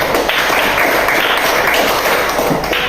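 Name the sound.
class applauding a student group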